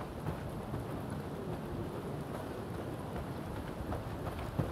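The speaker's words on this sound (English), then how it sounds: "Well, not if it's pissing down rain." Steady heavy rain with a low rumble of thunder in the Days Gone video game, a dense constant wash that stays even throughout with no voices.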